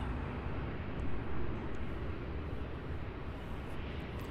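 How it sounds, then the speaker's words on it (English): A Jetstar Airbus A321 airliner at Melbourne Airport, bound for Cairns, gives a steady broadband engine roar heard from a distance, swelling slightly and then holding level throughout. "And here's the Jetstar A321 going to Cairns."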